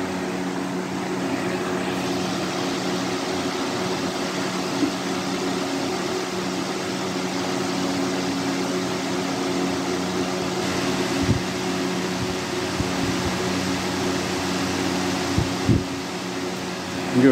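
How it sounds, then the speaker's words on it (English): A Lasko B20401 Decor Colors box fan from 2019-2020 runs steadily, giving a smooth, even airflow whoosh with a faint low hum. It stays alone the whole time with no talk. "Actually moves pretty good air for a modern fan."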